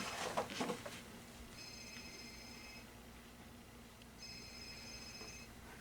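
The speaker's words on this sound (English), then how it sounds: "Getting a phone call." A telephone rings with two electronic trills a few seconds apart, faint against steady outdoor background noise on a lawn care job, with no talking.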